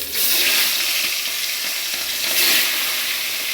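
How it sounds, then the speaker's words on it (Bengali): Fish heads fry in salted hot oil, a dense, loud, continuous sizzle and crackle that swells slightly near the end, close up with no voices. "মাছের মাথাটাকে আমি ভেজে নেব"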